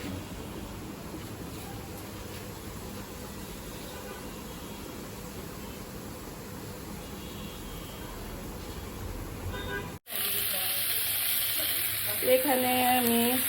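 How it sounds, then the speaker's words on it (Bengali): Steady, close sizzling of spicy leafy greens (shak bhaji) frying in a pan, a continuous hiss that cuts abruptly near the end to a brighter, louder frying sound with a faint tonal clink. "প্রায় শাক ভাজি করে দিলাম ঝাল ঝাল করে"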